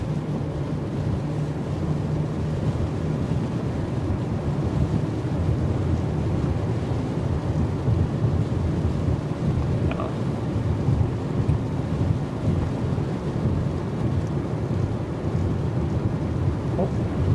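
Thunder from a thunderstorm during an Oklahoma dryline storm chase, a continuous low rumbling roar that stays steady throughout.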